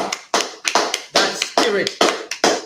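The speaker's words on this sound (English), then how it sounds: "Clap that up." Sharp rhythmic clapping in a church gathering, roughly eight loud bursts in a quick irregular beat, close and prominent, with a voice faintly mixed in.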